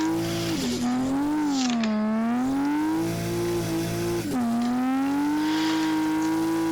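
A Swarm Toyota Altezza V3 drives in Assetto Corsa, its engine a loud, steady close drone that dips and climbs with throttle and gear changes, with faint tyre noise beneath.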